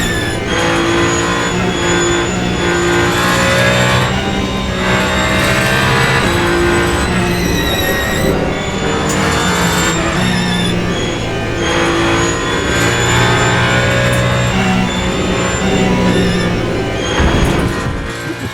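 Hypercar engines scream at close range in Le Mans Ultimate, a loud sustained racing roar with whining gear tones rising and falling as cars pass and shift, with no talk.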